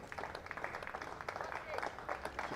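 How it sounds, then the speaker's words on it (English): Scattered applause from a cricket crowd at a County Championship match, Warwickshire v Hampshire, as a player leaves the field, fairly distant and soft, with a commentator's voice talking over it. "He'll get another round of applause, you see."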